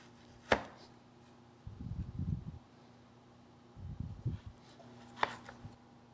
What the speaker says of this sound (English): I'm just gonna use a sharp knife and cut this into some nice sized pieces.